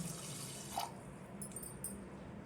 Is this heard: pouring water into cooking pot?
yes